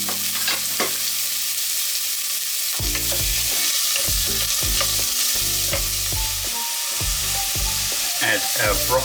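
Garlic and onions sauté in olive oil in a pan for a broccoli-parmesan chicken soup, a continuous bright sizzle broken by repeated scraping knocks of a spoon stirring through the pan.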